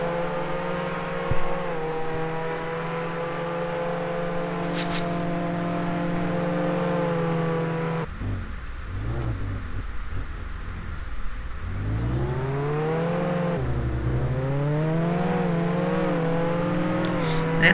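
A fire truck engine drones steadily in Roblox Jailbreak, then drops and swoops up and down in pitch as it revs and slows, a continuous near motor hum with faint talk underneath.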